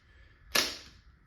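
A Valken M17 less-lethal launcher fires a single HP68 round: one sharp, loud crack with a quick airy tail that fades within about half a second, heard on its own with no talking.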